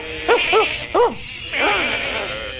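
A cartoon sheepdog barks a few times in quick, yappy bursts, then lets out a longer, drawn-out bark, fairly close and clear.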